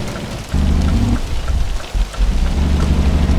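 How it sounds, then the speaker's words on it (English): Rain and thunder in the trucking game Euro Truck Simulator 2, a steady hiss of rainfall layered over deep rumbling that swells and recedes in heavy low rolls, loud and close, with no talking. "I like the rain."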